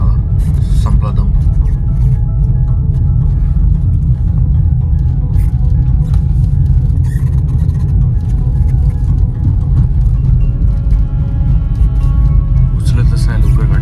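A Tata Punch climbing a mountain road in Nubra Valley with the AC off, engine droning low and steady in third gear as it struggles for power, with people talking over it throughout.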